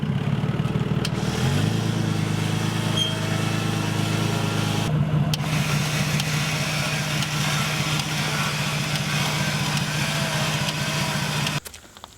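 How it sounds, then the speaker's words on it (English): A vehicle engine drones steadily as it backs down a hill with its winch in free spool, the loud, close motor hum shifting in pitch a couple of times before cutting off abruptly near the end. "I'm just going to back it up off the hill until everything looks clean here on the winch cable."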